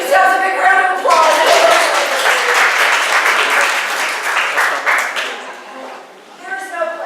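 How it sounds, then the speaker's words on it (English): Audience at a spiritual gathering breaking into a strong burst of applause, dense clapping close by that rises quickly and tapers off after several seconds, with someone speaking at the start and end. "Give yourselves a big round of applause."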